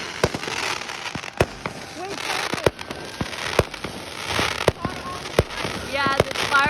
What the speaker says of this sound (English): the fireworks caught on fire